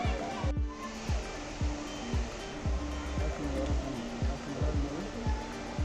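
A rushing stream at Ponmudi hill station in Kerala keeps up a steady, loud, broadband wash of water throughout, heard up close with repeated low thumps underneath.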